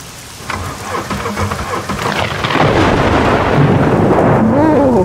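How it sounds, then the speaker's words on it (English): Heavy rain pours steadily in the SCUM video game while rolling thunder builds and grows louder, a dense continuous storm roar with no voices. "I love thunder."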